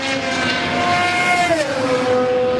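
GT race cars roar at full throttle down the long downhill front straight at Paul Ricard, a loud sustained engine scream that drops in pitch as a car passes close by, with no talk.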